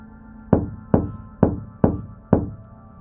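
Five evenly spaced knocks on a wooden door, sharp and resonant with short decays, sounding alone in a quiet room for a Halloween urban legend about a knock answered by knocks.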